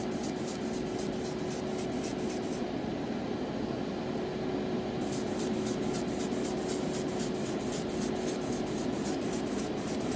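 A spray gun laying down rust-coloured paint in trigger bursts, a steady close hiss with brief pauses and pulsing on-off texture, quiet and without speech.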